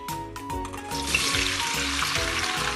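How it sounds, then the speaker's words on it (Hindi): Okra and green chillies drop into hot oil and break into a loud, close sizzle that swells quickly and holds as a dense crackling hiss, with a few stirring knocks underneath. "इस ऑयल में, ये गर्म ऑयल है, अब इसमें हम भिंडियाँ डालेंगे।"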